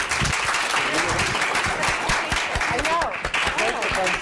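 A dense, steady round of applause from a crowd, loud and continuous, with voices mixed in underneath.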